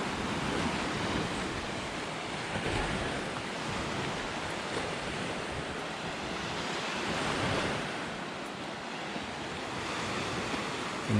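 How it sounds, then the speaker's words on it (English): Steady rushing surf washing onto a white-sand beach at Tropea, Calabria, Italy, continuous and fairly loud, with broad wind-like hiss and gentle swells rising and falling throughout. "there are some beautiful beaches down here"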